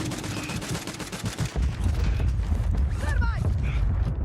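Gunfire in the video game Warzone, with rapid bursts of shots and booming reports up close, mixed with mechanical clatter and a brief squealing sound.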